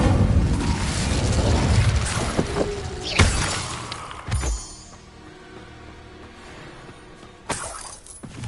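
Incendio fire spell cast in Hogwarts Legacy: a loud crackling burst of magical fire with sharp shattering impacts and a booming hit, followed by several quieter fizzing bursts and a final pop near the end.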